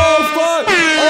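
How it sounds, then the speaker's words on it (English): Blaring air horns sound in loud, sustained harmonic blasts that overlap and shift pitch, with a brief dip before another burst returns, mixed with an excited voice. "Those are a lot of air horns!"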